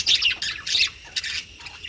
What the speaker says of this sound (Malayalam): ലവ് ബേർഡ് ഉണ്ട് സൺകുനിയർ ഉണ്ട്